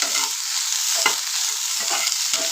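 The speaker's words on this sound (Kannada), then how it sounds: "ಒಳ್ಳೆ ಕಲರ್ ಬರೋವರೆಗೂ ಫ್ರೈ ಮಾಡ್ಕೊಳ್ಳೋಣ" Baby corn frying in a pan for a masala gravy, a steady bright sizzle with occasional scraping stirs of a spatula, close and continuous with no voices.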